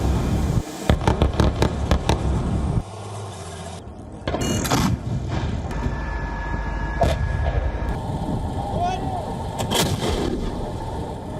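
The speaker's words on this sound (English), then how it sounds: "The clip shows soldiers in the hospital compound engaged in gunfights." Gunfire erupts in a hospital compound during the Gaza war, with sharp cracking shots in quick bursts early on, then heavier bangs and rumbling noise, with people's voices mixed in.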